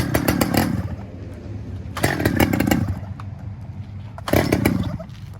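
A Stihl-type chainsaw engine being pull-started: three separate bursts of rough engine noise, each catching briefly and then dying back, loud and close with no talking.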